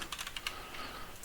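Quick burst of key presses on a computer keyboard, several close, crisp clicks in a rapid uneven rhythm, then quieter room noise.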